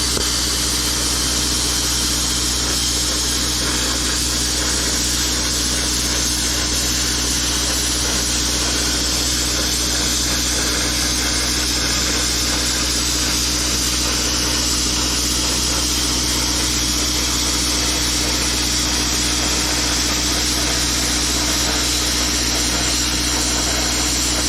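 Plasma cutter slicing through 1/8 inch metal plate, a steady, loud broadband hiss and roar with a constant low hum running unbroken for the whole stretch, no talking.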